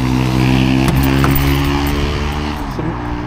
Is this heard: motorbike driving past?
yes